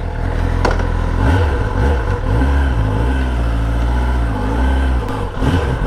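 A 2021 Kawasaki ZX10R sport bike engine revs nearby in repeated throttle blips, the loud roar rising and falling in pitch over a rough idle, with a brief clack early on.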